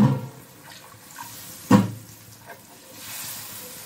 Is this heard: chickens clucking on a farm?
no